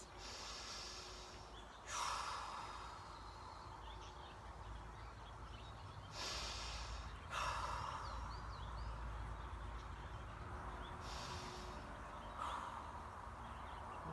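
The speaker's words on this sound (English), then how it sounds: "Nice deep breath in that position. 3 more big breaths." Deep, slow breaths taken while holding a stretch in a fitness session, three loud rushing exhales spaced a few seconds apart, close and quiet in between.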